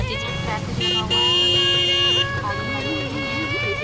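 Busy Indian road traffic with engines rumbling and a sustained, blaring horn, joined by other honks and some music-like tones, loud and close.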